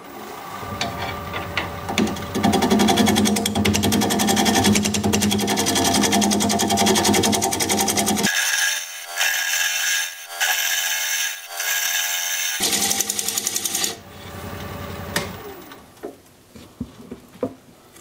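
A wood lathe turns a weeping birch blank while the bottom is flattened, a loud steady whirring with tool chatter that cuts out midway to a brief hiss, then resumes.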